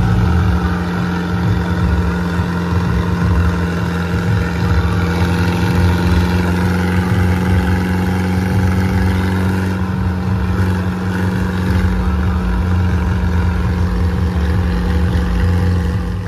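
A steady, close tractor engine, an Arjun being readied for a tractor-pulling contest, drones evenly at idle with a deep, continuous hum that barely changes throughout.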